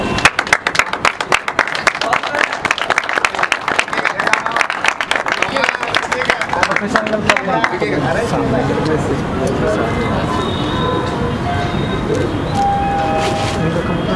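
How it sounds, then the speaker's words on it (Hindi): Loud applause at a pigeon flying club award function, sharp crowded clapping for several seconds that gives way to hall chatter and amplified talk. "रिजवान भाई के लिए भी जोरदार तालियां"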